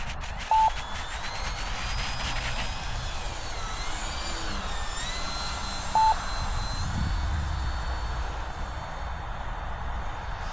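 E-flite Turbo Timber Evolution 1.5 m radio-controlled float plane in flight, its electric motor a thin whine that rises and falls in pitch as it passes, moderately distant, with a couple of short beeps.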